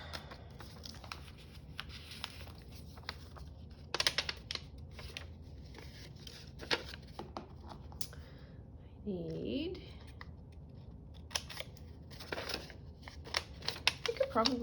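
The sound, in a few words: cutting paper with scissors for a craft journal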